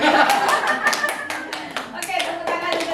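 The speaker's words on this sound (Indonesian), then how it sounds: "Oke, tepuk tangan untuk kita semua" An audience of adults and children claps their hands in a classroom-style gathering, a brisk run of uneven, overlapping claps with spoken voices mixed in.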